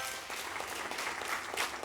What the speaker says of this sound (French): Et on applaudit du côté du district du Zanzan, c'est très bien.